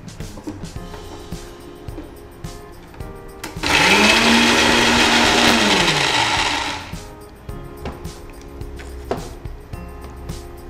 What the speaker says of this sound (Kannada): ಖಾರ, ಹುಣಸೆ ಹುಳಿ ಮತ್ತೆ ಉಪ್ಪು. ಇದನ್ನು ರುಬ್ಬಿಕೊಳ್ಳೋಣ. ಫೈನ್ ಗ್ರೈಂಡ್ ಮಾಡಬೇಕಲ್ಲ?